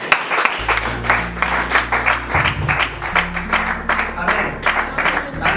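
A church congregation claps and cheers to acclaim the Lord, producing a loud, continuous wash of applause with sustained organ or keyboard chords playing underneath.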